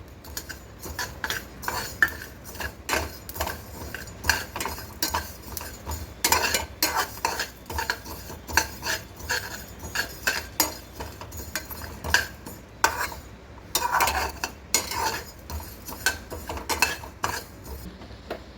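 A spoon scrapes and clinks repeatedly against a pan while cumin, pepper and other spices dry roast for huli anna, with irregular stirring bursts, a light sizzle, and no talking.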